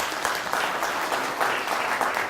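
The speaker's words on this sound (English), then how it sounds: "Round of applause." Steady, dense applause from an audience at the Embrace Awards 2013 ceremony, loud and continuous throughout without pauses or voices.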